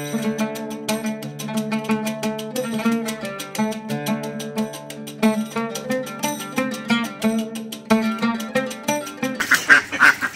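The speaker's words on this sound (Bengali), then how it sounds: "বাবা কত হাঁস, আমার ছেলের খুব প্রিয় এই হাঁস।" Many ducks quack in a dense, rhythmic chorus close by, with overlapping nasal calls repeating steadily throughout and a louder burst of honking near the end.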